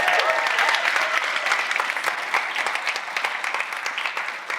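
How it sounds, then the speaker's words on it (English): An audience at a Christmas event applauds a guest welcomed on stage, a dense burst of clapping that starts full and slowly thins and fades toward the end. "Give her a big round of applause."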